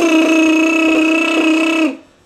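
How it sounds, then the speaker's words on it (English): A steady electronic telephone tone drones loudly and evenly for about two seconds, then cuts off abruptly. "That's the sound of the dial tone after the disc jockey connects you for being boring."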